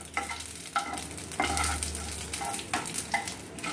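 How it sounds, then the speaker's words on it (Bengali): Radhuni seeds and two whole dried red chillies sizzle in a little hot oil as they are stirred. Irregular scraping bursts rise over a low, close frying hiss. "এবার ফোড়নটা একটু নাড়াচাড়া করে নিচ্ছে।"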